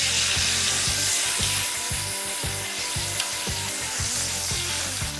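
Onions sizzling on a hot grill next to mojo-marinated skirt steak, a constant close sizzle with faint scraping and rubbing ticks mixed in, and no voices.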